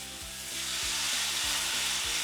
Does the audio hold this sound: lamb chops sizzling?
yes